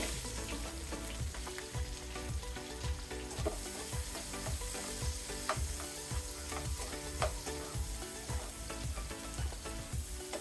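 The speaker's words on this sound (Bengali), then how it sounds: "এক মিনিটের মতো ভেজে নেব" About a cup of onions fry in oil left over from frying sarpunti fish, a steady, even sizzle with regular scraping strokes of stirring, nearby and with no talking.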